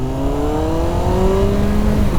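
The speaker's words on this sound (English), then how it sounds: "Oh, this is a fun motorcycle to ride." A motorcycle accelerates hard on the road after braking tests. The engine note climbs steadily and loudly, heard close to the rider with no talk over it.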